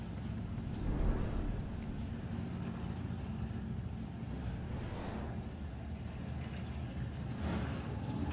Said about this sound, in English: That is the unmistakable sound of open headers on a slingshot.